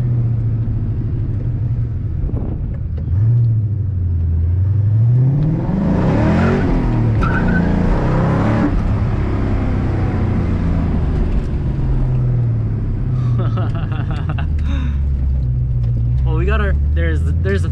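A cammed Ford Mustang GT with a 4.6 engine roars and rumbles close by, surging as it accelerates with rising revs and a choppy idle-like lope underneath, while a voice talks over it.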